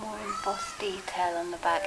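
Someone talks up close while a child's high-pitched screeches and wails sound repeatedly in the background.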